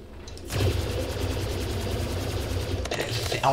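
A weapon fires in sustained automatic bursts in a video game, a loud, rapid rattling stream of shots lasting a few seconds that breaks off briefly before resuming, with a voice faintly underneath.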